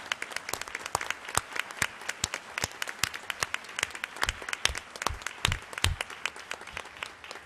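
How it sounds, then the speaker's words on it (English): Audience applauding for military service members and veterans standing at a school ceremony, a steady dense patter of many hands clapping with no talk over it. "And let's give them a great applause."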